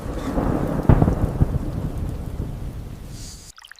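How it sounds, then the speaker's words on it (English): Thunder rolls through a heavy downpour, with a sharp crack near the one-second mark over steady dense rain that fades before cutting off abruptly. "The storm transforms the land in minutes."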